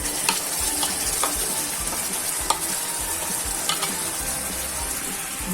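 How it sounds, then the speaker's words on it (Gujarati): Spiced yogurt poured into a potato curry in a hot pan, with a steady, close sizzle and frying crackle under scraping stirs throughout, no voices. "હવે તેમાં આપણે જે મસાલાવાળું દહીં કર્યું છે તે ઉમેરી દઈશું"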